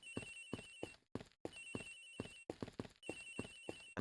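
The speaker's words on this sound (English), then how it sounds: "It sounds like the phone is up in the flight attendant's room." A telephone ringing inside a flight attendant's room on flight G390 in the Ace Attorney Investigations video game, a loud electronic bell sounding in repeated bursts with short gaps between them, clear and alone.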